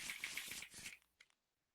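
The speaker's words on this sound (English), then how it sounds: "we're gonna shuffle these." Pandemic board game cards are shuffled by hand, giving a quick burst of papery riffling and flicking that stops abruptly, followed by a couple of faint taps, close up with no talking.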